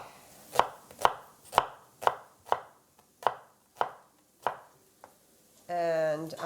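A knife slices ham on a cutting board with about nine crisp, evenly spaced strikes, close and clear, followed by a short burst of speech.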